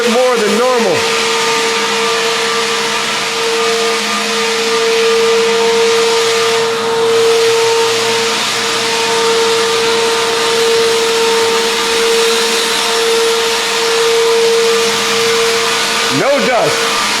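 A power sander works over hand-distressed wood during a home remodel at Newport Coast, a loud, unbroken motor whine and drone that holds steady from start to finish.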